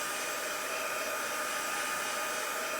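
Hair dryer drying freshly stamped ink, a steady, loud, unbroken airy whir with a constant motor hum, close and with nothing else over it.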